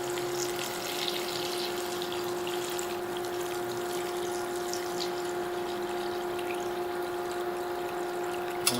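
Steady stream of about 10 cups of water pouring and splashing into a pot of vegetables for soup, continuous and even throughout, with a faint hum underneath.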